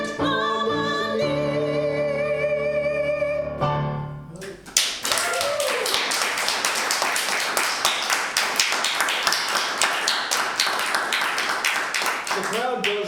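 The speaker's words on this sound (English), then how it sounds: "The crowd goes wild" After a sung ending in a stage musical fairy tale, an audience breaks into applause, sharp close hand claps that fill the space steadily and then taper near the end.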